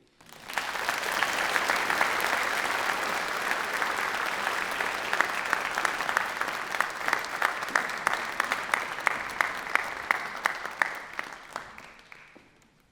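Sustained audience applause at a Royal Conservatory of Music convocation in Toronto after a music performance, a dense steady clapping that fills the hall for about eleven seconds with a few sharper individual claps standing out near the end before it fades.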